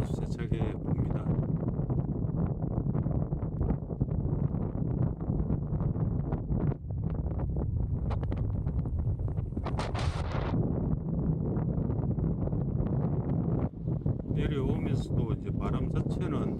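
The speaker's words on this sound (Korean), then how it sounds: "바람이 아주 세차게 붑니다." Strong wind buffets the microphone during a downhill descent in the Pyrenees, giving a constant loud rushing roar with brief gusts.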